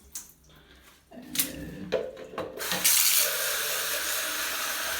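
Water from a bowl is poured in a shower cabin during cleaning. A few knocks and splashes come first, then a loud, steady rush of water splashing onto the cabin surfaces, close by and without speech.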